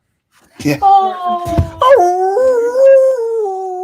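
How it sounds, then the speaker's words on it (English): A dog howls in a long, wavering wail that rises and holds, close and loud, after a brief rustle, with a voice murmuring a word underneath. "Horton, here's a howl."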